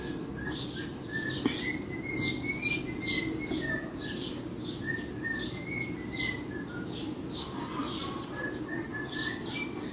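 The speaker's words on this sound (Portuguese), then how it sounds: "E o passarinho da vizinha cantando." A neighbour's pet cockatiel sings in a steady run of bright, repeated chirps and whistles over a constant low background hum, moderately close and continuing throughout.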